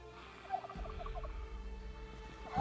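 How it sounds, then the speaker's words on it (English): Turkeys in the Project Zomboid video game gobble in a quick burst of faint, rattling notes, heard at a distance over a low rumbling game ambience. "I hear turkeys."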